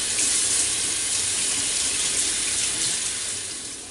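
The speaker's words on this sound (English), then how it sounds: "Rinse her off good." Tap water runs steadily into a kitchen sink while a whole raw chicken is rinsed under it, a close, continuous hissing splash that fades slightly near the end.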